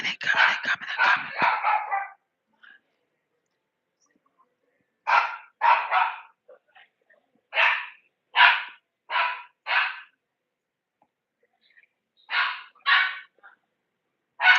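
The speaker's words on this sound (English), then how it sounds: "I hear the dog barking." A dog barks in short clustered bursts, loud and fairly close, with long silent gaps between the groups of barks.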